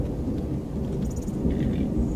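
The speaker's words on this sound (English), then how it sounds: "Listen to that thunder." Low rumbling thunder rolls steadily in the Skyrim video game, a continuous deep roar filling the whole moment with no talking.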